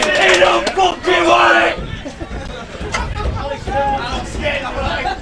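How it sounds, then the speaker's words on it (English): Crowd noise at a non-league football match, Barton Town against Staveley Miners Welfare, a loose hubbub of shouts and chatter rising and falling, with a commentator talking over it at the start. "crowd noise is obviously giving some sense of atmosphere here"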